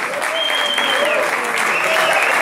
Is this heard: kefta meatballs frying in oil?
no